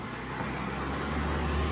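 Continuous roar of cars passing nearby on a road, loud and steady traffic noise.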